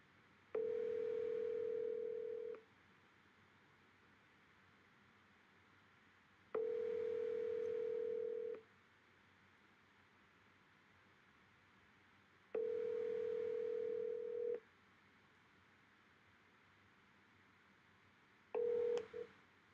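A telephone ringback tone on an outgoing cold call, with four evenly spaced two-second rings about six seconds apart, the last cut short, heard alone and fairly quiet.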